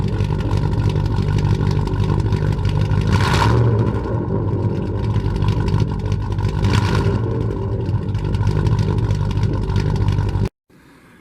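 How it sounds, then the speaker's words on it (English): A 1996 Chevy Cheyenne truck with straight-piped exhaust rumbles at idle, then is revved twice in sharp rising bursts before the engine note cuts off abruptly at the end, loud and near. "Rev it."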